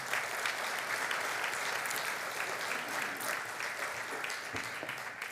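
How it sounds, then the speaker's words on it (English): At an award celebration ceremony, an audience applauds a woman as she comes forward. The clapping is continuous and even, somewhat soft and distant, and runs the whole stretch without pause. "Let's give her a round of applause as she comes forward."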